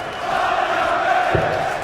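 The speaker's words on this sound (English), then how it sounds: "The crowd clearly on Barney's side for now" A darts arena crowd at a Premier League Darts match keeps up a steady, loud roar of cheering and chanting throughout, with no breaks.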